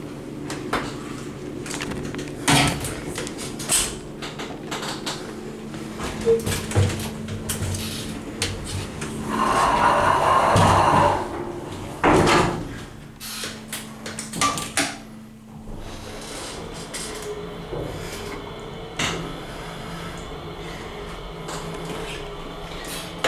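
A KONE hydraulic elevator at a Macy's store clunks and thumps as its doors and mechanism work, irregular knocks and bangs spread over about twenty seconds, with a louder whirring surge in the middle.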